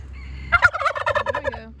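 A turkey kept with a silkie chicken flock lets out one loud, close gobble, a rapid warbling burst lasting just over a second over quiet background.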